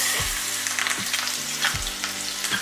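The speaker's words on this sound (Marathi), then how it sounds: "आता ही छान खमंग फोडणी आपल्याला त्या कैरीच्या डाळेवर घालायची" Mustard-free tempering: spices with chilli, turmeric and curry leaves crackle and sizzle in hot oil, with a few sharp pops and stirring clinks close by.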